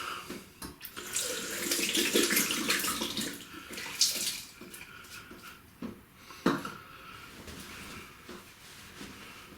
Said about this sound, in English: give the sink a quick clean